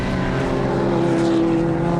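A BMW race car roars past at high speed down the front straight at Pukekohe Park, a loud, sustained engine note holding a steady pitch for the whole two seconds.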